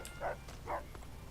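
A dog in the Fallout video game gives two faint, short barks over a low background hum.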